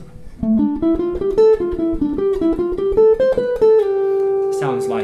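Solo guitar plays a ii-V-I jazz lick without a backing loop: a quick run of clean picked single notes climbing and falling, ending on a long sustained note, close and clear with a brief noise at the end.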